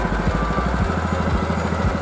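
A sugarcane grinding machine at an iced sugarcane juice stall in Yogyakarta runs steadily and loudly, its engine hum pulsing in an even, repeating rhythm with no talk over it.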